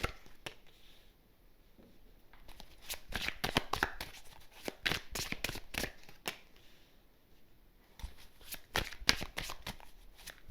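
A tarot card deck is shuffled close up in quiet, crisp riffles and flicks arriving in irregular bursts, separated by near-silent pauses.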